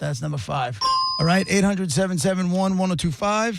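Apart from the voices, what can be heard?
ding sound effect on radio show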